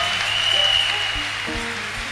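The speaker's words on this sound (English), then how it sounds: "Clap for the Seigneur Jesus" A church congregation clapping together during a service, a dense continuous patter of many hands with faint background tones beneath.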